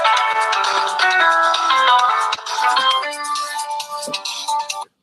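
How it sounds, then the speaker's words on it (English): A phone ringtone plays a bright, melodic electronic tune for about five seconds, fairly loud and close, then cuts off abruptly; no one speaks over it. "That's your ringtone?"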